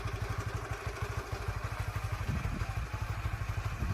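Honda Winner 150 motorcycle with 20,000 km on it idles close by, a steady rapid pulsing beat with a slightly rattly exhaust note and no voices.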